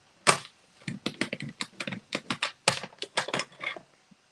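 A scoring tool pressed and drawn across cardstock between marked points while making a handmade card from leftover scraps, giving a quick run of about a dozen sharp, close scratchy strokes with short gaps.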